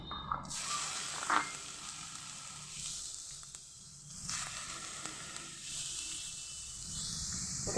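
Grated carrot for carrot-and-chhana sandesh is tipped into a hot pan and sizzles loudly, a broad steady frying hiss with a brief sharper burst as it lands, continuing close up with no talk.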